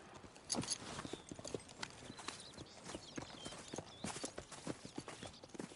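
Horse hooves clip-clopping on a mare in a Western open-world game, a steady, fairly close run of hoofbeats with scuffs and rustle, heard alone without talk.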